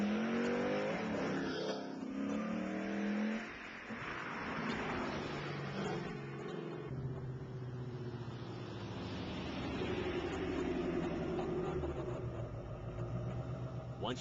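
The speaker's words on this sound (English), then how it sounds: "you can take the car out for a test drive to verify the installation" A car fitted with an aftermarket BBK throttle body on a test drive: a steady engine drone and road noise with rising revs at moments, while someone talks over it.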